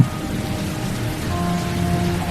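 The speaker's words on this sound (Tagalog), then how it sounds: "Ang lakas ng ulan ah." Dense, steady rainfall pouring down, loud and continuous with no pauses; no voices.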